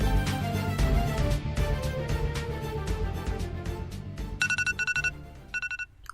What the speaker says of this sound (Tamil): டேய் என் நம்பருக்கு ஒரு ஃபோன் பண்ணு.